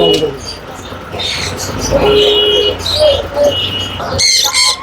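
Birds at a Mirpur bird market chirp and twitter in a busy mix, with many small calls overlapping, while people talk in the background.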